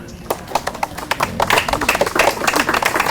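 Audience clapping at a Kathina (Kan Ben) Buddhist festival gathering, scattered hand claps building into dense, sustained applause, close and lively, with faint voices underneath.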